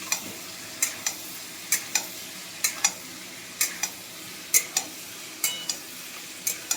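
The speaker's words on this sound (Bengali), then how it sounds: "এদিকে আমি পটলটা ভাজছি" Pointed gourd (potol) frying in a pan on the stove, a soft continuous sizzle punctuated by regular sharp scraping strokes of a spatula roughly every second, quiet and close with no talk.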